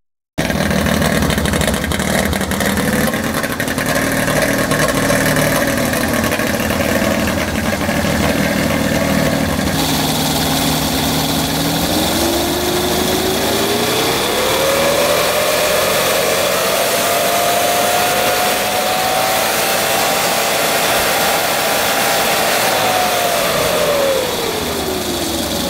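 A hovercraft's Rotax engine idles loudly and continuously, its pitch rising partway through as the throttle opens, then settling back near the end.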